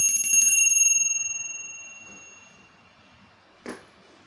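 A single bright bell rings out and its tone fades slowly into silence, followed by a brief soft knock.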